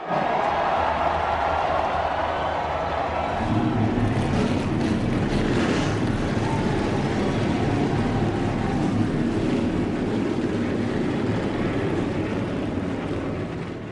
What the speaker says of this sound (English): Let's go trackside for the command to fire engines. Drivers, start your engines!